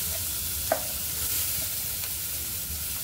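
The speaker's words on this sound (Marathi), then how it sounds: "आता द्या टाकून आपला कांदा, भरपूर कांदा वापरायचा." Onion hits hot oil for dal and fries with a continuous, close hiss and crackle, with a single brief knock early on.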